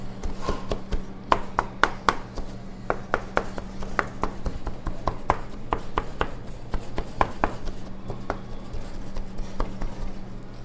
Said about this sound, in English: this uses 2 pounds of artichokes, and it's just a rough chop on it